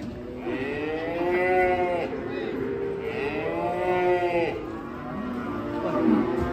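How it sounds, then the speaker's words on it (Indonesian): A black bull gives repeated loud, drawn-out moos close by, several long bellowing calls in a row while being unloaded from a truck, with outdoor background noise between them. "Sapi grandong hitam."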